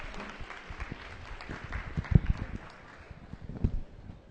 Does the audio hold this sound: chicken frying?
no